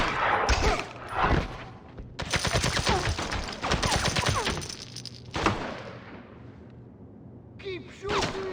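Gunfire in the James Bond 007 Blood Stone video game: rapid automatic bursts and sharp single shots in a running firefight, with shouted combat voices in between, dense and close.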